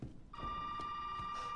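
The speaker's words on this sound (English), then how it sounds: "The phone's still going off." A telephone rings steadily in a Resident Evil 7 demo, a sustained electronic bell tone starting after a brief pause and holding loud and continuous, with faint footsteps and movement thuds beneath.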